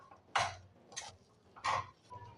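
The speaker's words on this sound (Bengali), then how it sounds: "কম করেই আমি এটাকে বেশ ভালোভাবে একটুখানি নেড়ে নেব।" A spoon stirs a coconut mixture in a pan over a low gas flame. Three or four distinct scrapes and knocks of utensil against metal, soft and close, separated by quiet gaps.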